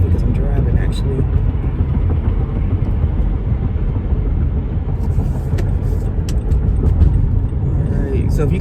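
Steady low road rumble inside a moving car fills the whole stretch at an even level, with a person talking over it throughout.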